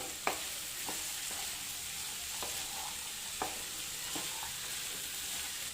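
Chopped onion and tomato are stirred into black chana in a pan, with faint spoon clicks at irregular intervals over a steady low sizzle.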